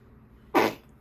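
An 8-month-old baby gives one short, sharp sneeze, close and fairly loud against a quiet room, followed a moment later by a small breathy catch.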